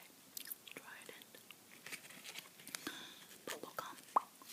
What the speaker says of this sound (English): Here's the gum I'm chewing tonight, by the way. Trident.